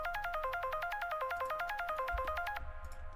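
Synth arpeggio layer for a hardstyle lead, a fast, evenly pulsing run of bright stepped notes repeating in a tight pattern, loud and alone, cutting off near the end into a faint tail.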